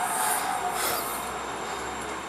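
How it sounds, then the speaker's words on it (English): Two trains running past each other on railway tracks, a steady loud rumble with high wheel squeal and hiss filling the whole clip, no talking. "Ooh, double train."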